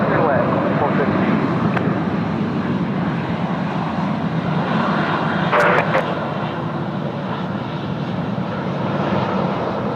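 A Qantas airliner lands at Sydney Airport, its engines producing a continuous loud broadband roar throughout, with a radio voice from air traffic control briefly heard over it.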